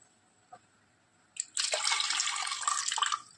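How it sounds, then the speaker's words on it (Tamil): Water poured from a cup into a pot of washed moong dal for payasam, a steady splashing stream lasting about two seconds after a brief clink, close and fairly loud, with no talking. "இப்போ இதில் 3 கப்பு தண்ணி ஊற்றிக்கலாம்."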